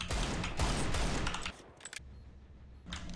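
Rapid bursts of video game gunfire, loud and dense for about a second and a half, then a quieter stretch with a few sharp cracks before another burst resumes near the end.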